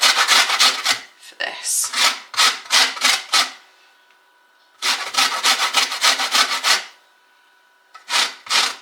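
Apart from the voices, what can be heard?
zesting a lemon on a grater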